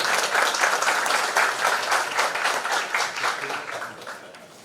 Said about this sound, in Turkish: Kendisini alkışlarınızla sahnemize davet ediyorum.